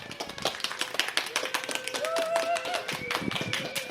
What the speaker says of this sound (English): Give yourself a round of applause for coming out.